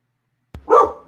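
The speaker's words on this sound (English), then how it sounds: "All right, so my dog is barking." One loud, close dog bark comes out of silence, preceded by a faint thump.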